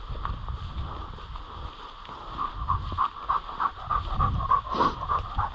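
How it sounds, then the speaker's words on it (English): A hunting dog pants steadily and rhythmically close by, outdoors on a boar hunt, with light wind in the background and no talking. "Good dog."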